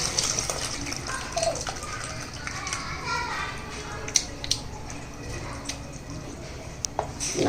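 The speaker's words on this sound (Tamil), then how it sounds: "இந்த புளி தண்ணி கரைச்சி இதில் ஊற்றிடணும்" Tamarind water is poured into a pot of horse gram rasam, making a soft, running splash with scattered drips and clinks while a person keeps talking over it.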